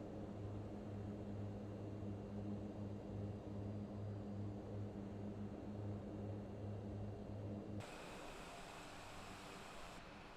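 Propeller airplane in steady cruise in a flight simulator, a continuous droning engine hum with a rhythmic pulsing throb, the tone shifting abruptly near the end as the view or engine setting changes.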